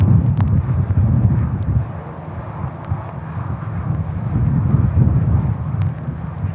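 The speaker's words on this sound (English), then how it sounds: "Just had another go around Ryanair right over the top from Warsaw" A Ryanair airliner from Warsaw goes around overhead at Manchester Airport during stormy weather, a loud low engine rumble mixed with gusty wind noise on the microphone.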